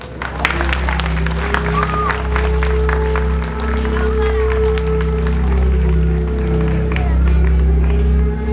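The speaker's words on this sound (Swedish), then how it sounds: "Ska vi ge dem en riktigt varm applåd?" Steady crowd applause and cheering from an outdoor audience at a culture-night fire show, continuous broadband clapping with a low hum and occasional voices mixed in.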